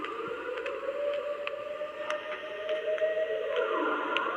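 A video game siren call from the Siren Head creature. Long wailing tones hold and slowly bend up and down at moderate loudness over low rumbling ambience, with faint clicks scattered through.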